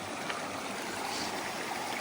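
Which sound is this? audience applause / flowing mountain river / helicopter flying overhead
flowing mountain river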